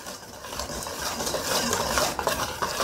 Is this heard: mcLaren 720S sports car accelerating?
no